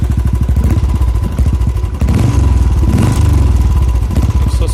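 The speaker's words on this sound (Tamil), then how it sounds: "எக்ஸாஸ்ட் சவுண்டு வேறு லெவலுங்க." A Royal Enfield Classic 350 BS6 Signals Edition fitted with a performance exhaust starts and settles into a loud, close, steady thumping idle, its regular beat continuing throughout.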